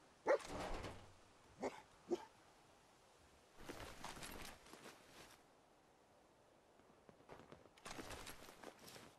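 Dogmeat, the companion dog in the video game Fallout 4, gives several sharp barks and yips in separated bursts, loud at first and then quieter, with faint footstep-like shuffles between them.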